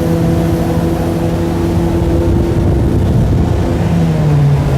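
A Heyday WT-1SC wakeboard boat roars under throttle, its engine drone loud and steady with a rising hum as it accelerates across the water, close by and continuous without talk.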